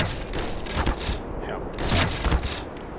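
Gunfire in the video game Black Mesa, with sniper rifle shots mixed into dense, ongoing battle noise. The shots come as several loud bursts, heaviest near the middle and end of the moment.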